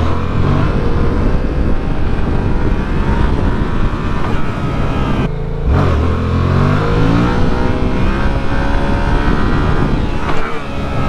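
A Yamaha MT-07 motorcycle engine revs hard throughout while the rider pulls wheelies, a loud, continuous roar with rising and falling pitch and a brief dip in throttle partway through.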